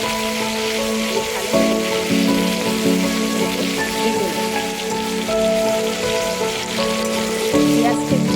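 Sliced onions fry in a pan along with dried red chillies, sending up a dense, constant crackling sizzle close by while music plays softly underneath.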